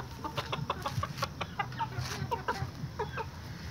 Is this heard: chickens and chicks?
yes